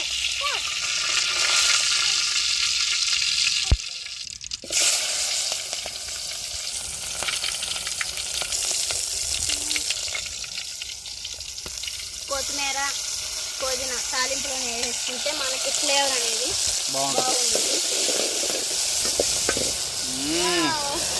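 Sliced onion and green chilies fry in hot oil for a gongura curry, crackling and sizzling steadily and close by, with brief knocks and a voice talking faintly over parts of it.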